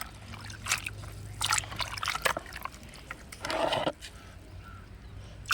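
Banana peel soak liquid fertiliser being poured out in a few short trickling bursts, the longest near the end, over faint background hum.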